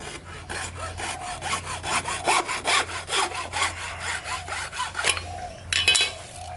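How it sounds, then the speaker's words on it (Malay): A hacksaw cuts through poly pipe in rhythmic rasping strokes, close and fairly loud, a dozen or so back-and-forth passes with a brief pause near the end. "sekarang saya akan demo potong poli ni, poli pipe menggunakan gergaji besi."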